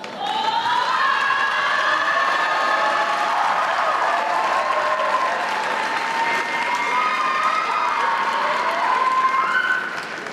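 A large crowd at a fall university commencement applauds newly commissioned second lieutenants, with steady sustained clapping and some cheering that fills the hall for about ten seconds before fading.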